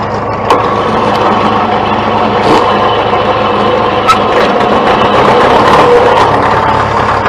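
An old tractor engine running at idle without choke, a steady loud mid-pitched rumble with faint knocks throughout, heard close up at an auction preview.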